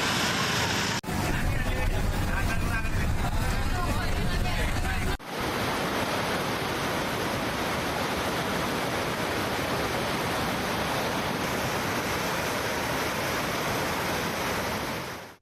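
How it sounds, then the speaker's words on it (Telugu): The Moya Tummeda stream in Siddipet, swollen by flooding, rushes fiercely in a loud, steady roar of churning water that fills the whole stretch, with a voice over the first few seconds. "సిద్దిపేటలో మోయ తుమ్మెద వాగు ఉధృతంగా ప్రవహిస్తోంది"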